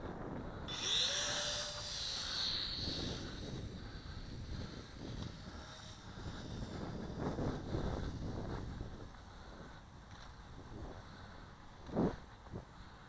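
An Air Hogs Fury Jump Jet toy VTOL flying outdoors in wind: a steady high whirring buzz of small rotors under gusty wind rumble, rising and falling slightly as it circles, with a sharper swell near the end.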